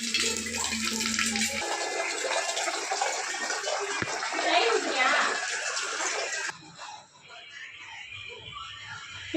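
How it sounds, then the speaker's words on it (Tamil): Tap water gushes steadily into cooking vessels for a biryani, loud and close, then the flow changes and softens partway through while a voice talks over it. "இப்போ இது இந்த வெசல்ஸில் ஃபுல்லாக வாட்டர் ஃபில் பண்ணணும்."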